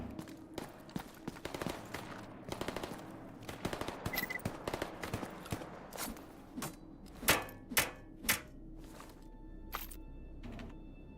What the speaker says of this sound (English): Hear a lot of gunfire